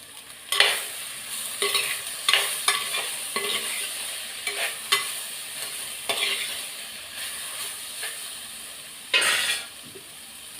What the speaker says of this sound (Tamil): இப்போ பாவக்காய் நல்லா வதங்கட்டும்.